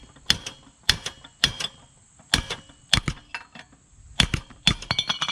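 Sharp metallic whacks of a sledgehammer driving a chisel against a stuck part on a Tecumseh 3.5 HP edger engine, coming in irregular single and double strikes with short pauses, close and loud, no talking.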